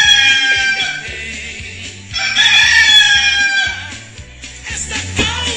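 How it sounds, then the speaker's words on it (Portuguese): Rooster crowing played as a wake-up sound, two long loud cock-a-doodle-doo calls in succession, close and clear over a low rhythmic musical beat. "Coloca o galo aí pro Brasil acordar."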